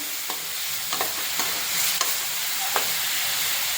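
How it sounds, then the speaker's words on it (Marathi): Onions stir-fried in a pan until brown, a steady close sizzle with a few sharp scraping clicks of a spatula at irregular intervals, no voices. "कांदाला आपण पूर्ण ब्राऊन होईपर्यंत परतवत राहायचं आहे"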